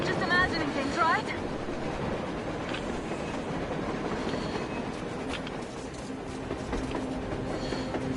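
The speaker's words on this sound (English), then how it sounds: "A train! A damn train on the surface!" A train in the post-apocalyptic shooter Metro Exodus gives a steady, moderately loud mechanical rumble and rattle throughout. A voice briefly sounds near the start.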